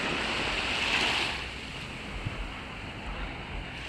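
Sea surf washes onto a beach, a broad, steady roar of breaking waves with wind buffeting the microphone, strongest at the start and then settling into a softer continuous wash.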